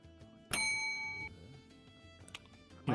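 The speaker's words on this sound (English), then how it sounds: "It's the bell." A bell rings once with a sharp metallic strike and a bright ringing tone that decays over about a second, followed by faint background clatter and a few soft knocks.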